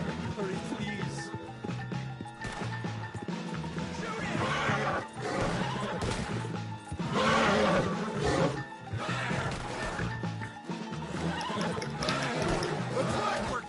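A horse neighs in Red Dead Redemption 2, set within a dense, loud mix of gunfire-like crashes and game action, with voices talking over the clamor.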